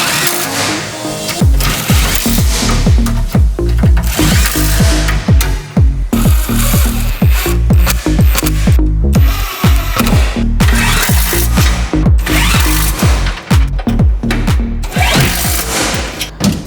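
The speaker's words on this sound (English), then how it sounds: "then we can get the drawer frame sitting in the car ready to drill some holes" A power tool drills holes to mount a drawer frame inside a LandCruiser, loud and close, with rapid rhythmic chattering bursts running almost continuously and a few short pauses.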